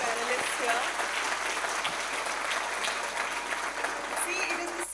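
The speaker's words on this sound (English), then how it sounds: "Can we have a huge round of applause for our guests, our panelists here?" An audience claps steadily for a panel in a dense, sustained round of applause, filling the room from start to finish.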